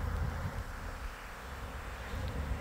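Honeybees buzz around hundreds of hive colonies set out in a nut orchard, a continuous droning hum that stays at an even level with no talking.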